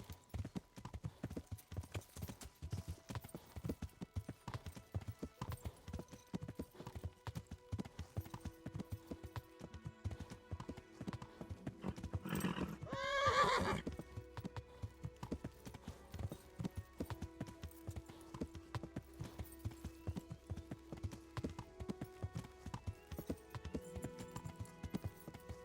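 Horse hooves clip-clopping in a steady trotting rhythm in the medieval game Kingdom Come: Deliverance, with a short, louder whinny breaking through midway before the hoofbeats carry on alone at a moderate level.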